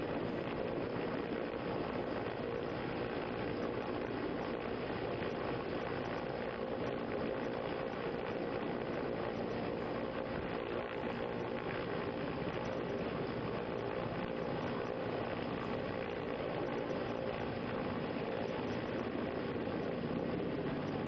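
An Indian Air Force aircraft, likely a helicopter, hovers during a rescue over the Tawi River in Jammu, a constant, dense engine and rotor roar that stays loud and unbroken throughout.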